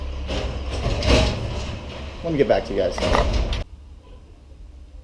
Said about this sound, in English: now that the trash truck is gone and I can hear myself think